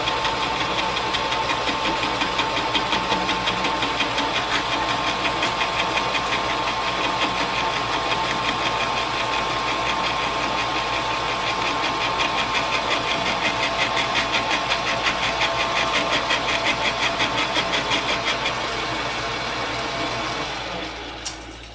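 A Logan 8-inch metal shaper takes a cut on a new feed plate, its ram running in a steady, dense mechanical rhythm close by for about twenty seconds before stopping at the end.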